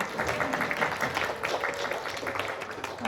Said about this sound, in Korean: 우리 환영으로 박수로 환영하시겠습니다